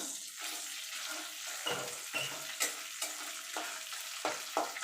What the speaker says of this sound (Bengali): এবার ফোড়নটা একটুখানি ভাজা ভাজা করে নেব